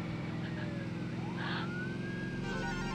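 Police car sirens wail continuously in the Midtown Madness driving game, several rising and falling tones layered over a steady engine drone, loud and close throughout.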